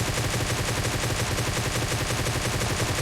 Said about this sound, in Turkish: Oradan birden geldi silah sesi.